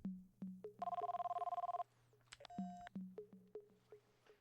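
A mobile phone rings with a bright electronic tone for about a second, followed by a short beep, while soft regular thumps continue underneath in a quiet room.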